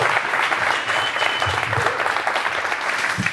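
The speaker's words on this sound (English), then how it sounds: "So once again, please, round of applause to Sam." Brief burst of steady audience applause at a Skool Games business event, dense clapping filling the room with a few low voices underneath.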